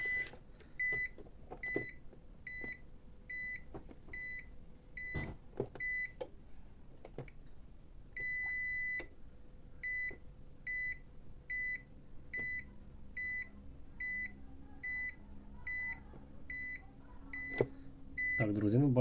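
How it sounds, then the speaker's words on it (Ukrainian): A UPS (uninterruptible power supply) buzzer beeping over and over in a steady rhythm of short bursts, with faint background noise and occasional clicks. "тут зумер не виключається, тобто він буде пищати постійно"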